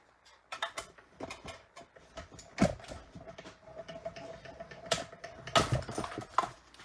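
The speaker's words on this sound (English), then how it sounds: "now let's bring in our little tiny die cutting machine" A small die cutting machine works through two labels with a series of sharp clicks, ticks and mechanical snaps in an irregular rhythm, close and fairly quiet, with no talk.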